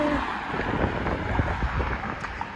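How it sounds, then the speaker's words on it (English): Wind gusting on a cold, windy day outdoors while someone walks to work, a steady low rumble of buffeting air against the microphone, fairly loud and constant with no talking. "the wind is blowing"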